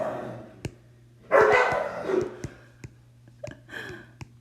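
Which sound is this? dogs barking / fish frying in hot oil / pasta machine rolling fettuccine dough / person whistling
dogs barking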